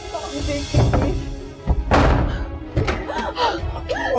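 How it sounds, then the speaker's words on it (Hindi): A door is pounded and forced open in a tense domestic drama scene: a series of heavy, close thumps and bangs, with agitated voices under and between the blows. "जहरा खोलो दरवाजा।"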